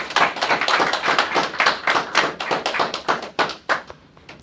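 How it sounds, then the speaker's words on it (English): A small group at a Toastmasters International speech contest claps in loose, uneven bursts, the sharp hand claps close by and gradually tapering off. "Let's welcome you with a warm round of applause."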